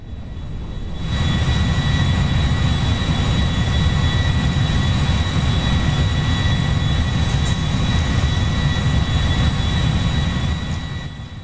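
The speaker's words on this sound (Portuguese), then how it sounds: "agora vamos pousar o Boeing aqui" A Boeing airliner's engines in the video game GTA 5, a loud, steady roar with a faint high whine that starts after a short quiet moment and holds until the end.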